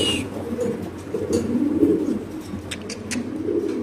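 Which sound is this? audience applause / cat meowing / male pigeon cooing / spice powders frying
male pigeon cooing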